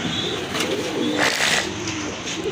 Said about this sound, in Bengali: খুবই সুন্দর এক জোড়া চুইনা কবুতর